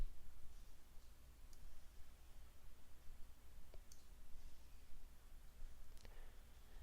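A computer mouse clicks a few times, sharp and very faint, spaced out over several seconds against a low, quiet room hum.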